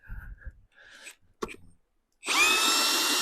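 A Vitals PAU 1870 BS SmartLine cordless drill-driver backs a screw out of ash wood. After a few faint knocks and a short pause, the motor whirs in loud and close with a high, steady whine.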